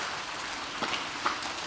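Steady rain falling outside a restoration shop in a breeze, a soft continuous hiss with a few slightly louder drop impacts, faint and without talk.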